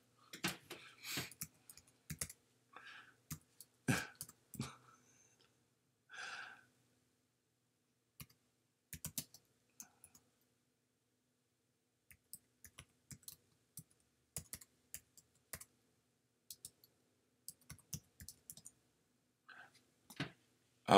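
Someone types on a computer keyboard, searching for a David Bowie tarot deck. The clicks come in quiet, scattered bursts with long silent gaps and no talking.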